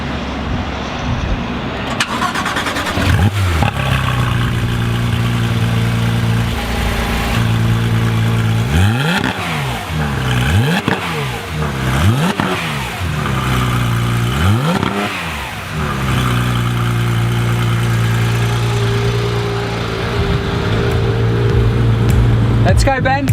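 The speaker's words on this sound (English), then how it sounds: "I want people to hear this beautiful engine start up." A Porsche 911 GT3 RS engine fires up and revs hard several times, each rise and fall loud and close, settling into a rumbling idle between blips.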